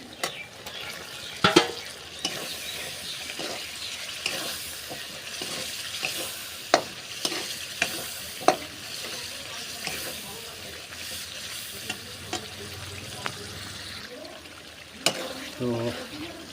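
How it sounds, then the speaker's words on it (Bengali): Yogurt-marinated chicken is stir-fried in a pan, a steady sizzle broken by repeated clatters and scrapes of a spoon, some sharp and near, over a sustained frying hiss. "আমাদের যে চিকেনটা দই দিয়ে মিক্স করা ছিল সেটা দিয়ে দেবো এবার"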